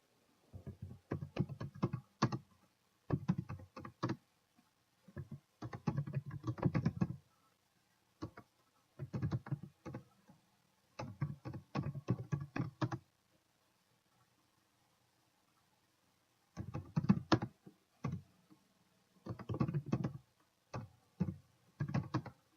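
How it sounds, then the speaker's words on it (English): Bursts of fast typing on a laptop computer keyboard, entering text into a form in short runs with pauses between them, the key clicks close and fairly quiet. "we would type in what was done to fix the situation of this sign"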